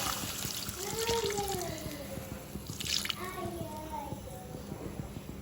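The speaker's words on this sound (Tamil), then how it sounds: "இதுக்கு தேவையான அளவுக்கு தண்ணியை விட்டுக்கொள்கிறேன்." Water poured into a cooking pot for boiling mutton in a home kitchen, a steady splashing pour that runs for several seconds at close range.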